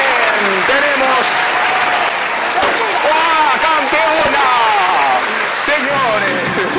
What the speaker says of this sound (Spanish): Un aplauso serio para Jennifer.